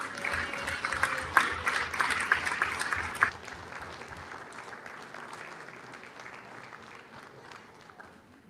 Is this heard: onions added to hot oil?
no